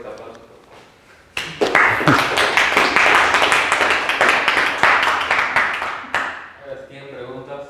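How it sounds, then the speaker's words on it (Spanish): An audience bursts into loud, sustained applause after a physics talk on radiative corrections to the Higgs mass, a dense clapping roar that starts abruptly and cuts off sharply, with a voice speaking faintly at the end. "Fuerte aplauso"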